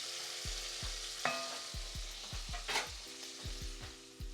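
Onions frying in a pot for a vegan butternut bisque soup, a faint sizzle under a regular low rhythmic thumping, with occasional soft scrapes of stirring and no voices.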